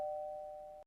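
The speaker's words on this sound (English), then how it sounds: "The doorbell is ringing." A single electronic doorbell tone rings once, a clean steady chime under a second long that holds evenly and then stops sharply, fairly soft and with nothing else heard.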